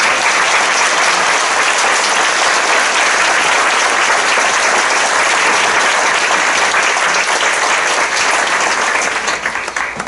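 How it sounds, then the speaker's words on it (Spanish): Sustained audience applause at a fiftieth-anniversary panel discussion on the film Los caifanes, a dense, loud, even wash of many clapping hands lasting about ten seconds and starting to thin out at the end. "Un aplauso"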